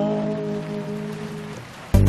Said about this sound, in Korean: 하루 종일 비가 내리고 있습니다.